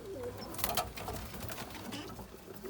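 Pigeons cooing softly amid a busy background of rustling and scattered bird sounds, with no voices.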